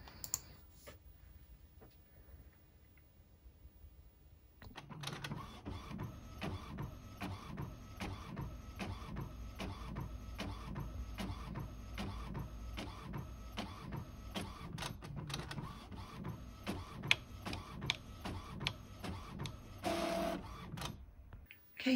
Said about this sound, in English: And now it's going to print.